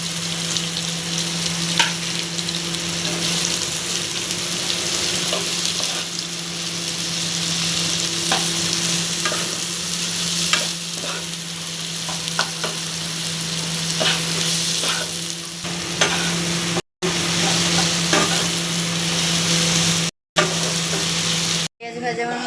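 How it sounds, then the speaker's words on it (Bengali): Onions added one by one to hot oil in a pan sizzle and crackle continuously, close and loud, with intermittent spatula scrapes and stirring and a steady low hum underneath. "তেল গরম হয়ে গেছিলো, তো এবার পেঁয়াজগুলো আমি এক এক করে দিয়ে দিলাম।"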